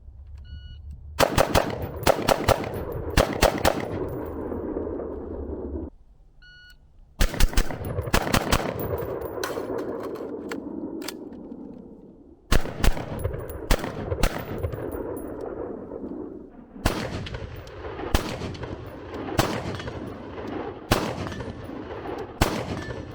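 Rapid strings of loud gunfire from a compact Maxim PDX short-barreled rifle, four long bursts of closely spaced shots with brief pauses between them, echoing at a range.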